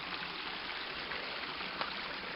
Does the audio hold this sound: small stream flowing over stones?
yes